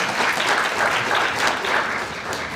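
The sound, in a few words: audience applause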